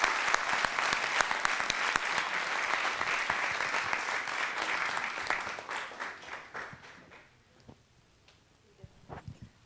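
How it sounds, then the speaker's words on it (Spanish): Applause from an audience at a book presentation for a speaker, dense and steady clapping for about six seconds before thinning to scattered claps and a few late, closer handclaps. "Un aplauso para el doctor Duverger."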